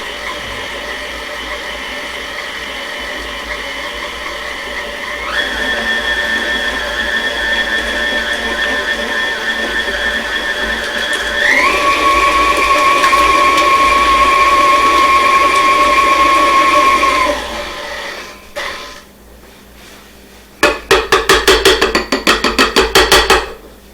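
A stand mixer steadily beats pumpkin cake batter, its motor whirring at a constant loud level and shifting pitch midway as the speed changes, then slowing and sputtering into a few rapid rhythmic bursts near the end.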